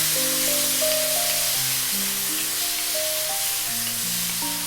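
Marinated chicken sizzles steadily in hot oil in a wok for a Filipino sarciadong manok, a close, even hiss running throughout beneath background music.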